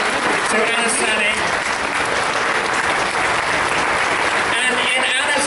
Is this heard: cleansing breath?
no